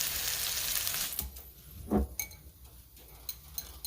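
Lamb chops sizzling in a pan after being flipped, a soft steady frying hiss with a few clinks and a brief louder pop midway, close and quiet with no talking.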